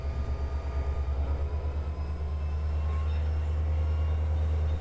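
A train runs in the Trainz railroad simulation game, a deep steady engine rumble with rhythmic pulsing thumps early on that settle into a continuous low drone, with faint higher tones above.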